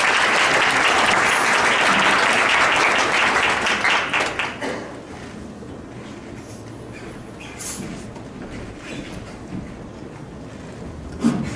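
Audience applause at a crypto coin meetup in Seoul after a team's presentation, loud dense clapping for about four seconds that thins into scattered claps and a quieter room, with a last few claps at the end.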